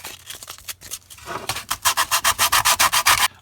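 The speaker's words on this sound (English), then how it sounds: "I might want to run some fairly rough sandpaper over that." Rough sandpaper scrubs a Tamiya F150 Ranger and Blackfoot model car interior part in quick, regular back-and-forth strokes, a close, crisp rasping that grows louder and steadier toward the end, with no talk.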